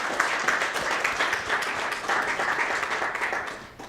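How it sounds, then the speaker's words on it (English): A conference audience claps for several seconds at a food recovery summit session, a dense, even round of applause that tapers slightly toward the end. "Let's give them a round of applause."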